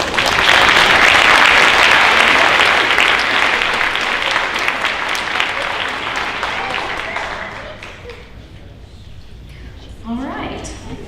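Sustained audience applause at a high school senior honors night, loud and dense at first, then gradually thinning and fading toward the end, with a few scattered claps returning at the close.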